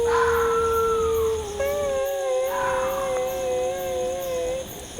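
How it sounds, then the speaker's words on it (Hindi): A long mournful howling cry, wavering and sustained over a steady background hum, loud and close, used as an eerie sound in a ghost story. "ये रोने की आवाज़ कहाँ से आ रही है?"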